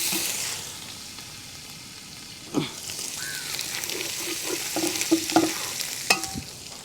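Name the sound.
stirring crushed ginger and garlic frying in butter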